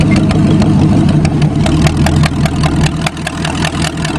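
A Chevrolet engine runs at a steady, loud idle after a rough home tune-up, close to the mic with a continuous low rumble and rapid regular firing pulses, no voices over it.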